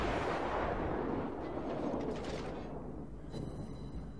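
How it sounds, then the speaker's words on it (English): Heavy naval gunfire from a German cruiser's full salvos in World of Warships, a dense continuous rumble of booming shots rolling together with no clear gaps, loud throughout and fading slightly toward the end. "let's go back to firing full salvos and see what happens"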